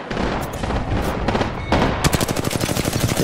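Bursts of gunfire from the Apex Legends battle royale game: a few scattered shots early, then a fast, loud automatic volley of evenly spaced rounds near the end, heard alone without talk.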